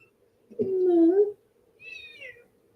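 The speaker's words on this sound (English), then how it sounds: "This is Baby Wilbur. One of my kitties" A pet cat gives two close, distinct meows, the first long and low and the second shorter and higher, with quiet pauses around them.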